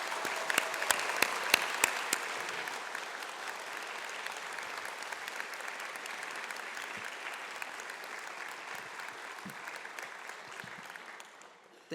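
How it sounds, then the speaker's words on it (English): An audience at a Berkeley statistics graduation ceremony applauds loved ones, with sharp individual claps at first that blend into sustained, even clapping from a large crowd, moderately distant, then slowly fading after about twelve seconds. "let us begin with a round of applause for all the loved ones here in Berkeley and around the world"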